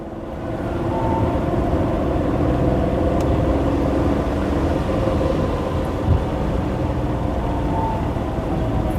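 A car drives steadily with a continuous low engine and road drone as it pulls away in first gear and shifts up to second, with no clear gear change standing out.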